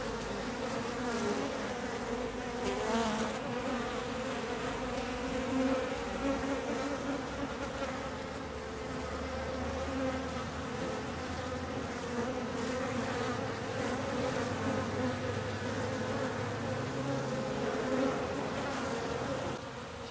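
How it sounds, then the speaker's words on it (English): Honeybees swarm around a syrup feeder, a dense, continuous buzzing hum of many wings close by, steady throughout with no talking. "So there's a whole bunch of bees in there."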